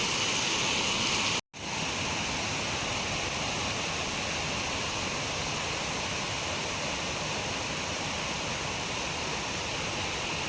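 Stream swollen with rainwater rushing in a dense, continuous hiss, loud and close, broken only by one brief cut near the start.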